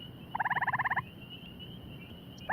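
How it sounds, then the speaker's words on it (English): A gray tree frog gives one fast, pulsed trill of about a dozen notes lasting under a second, loud and close over a steady background hum, with the start of another call right at the end. "And it's actually the gray tree frog."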